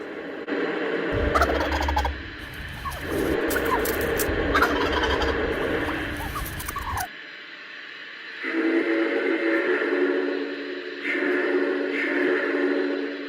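A turkey-gobble sound effect plays from a Lionel Vision Big Boy 4013 model locomotive, repeating in loud bursts over a steady electronic hum and ending with a softer tonal stretch.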